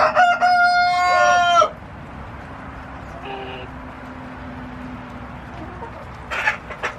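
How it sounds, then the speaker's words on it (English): A free-range rooster crows loudly and close for about a second and a half, then quiet farmyard hiss follows, with a brief faint call midway and another short burst of crowing near the end. "we just found out we have 2 roosters"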